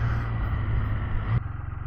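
Engine of a 2022 Can-Am Spyder F3-T three-wheeler riding on a curvy road, a loud close rumbling drone with wind noise that drops abruptly in pitch and level near the end, as if shifting gear.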